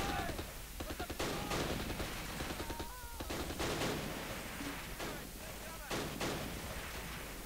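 Rapid bursts of small-arms and machine-gun fire with heavier shell blasts crackle through a battle in the WWII strategy game Close Combat, fighting around Caen, dense and continuous across the scene while someone talks in places.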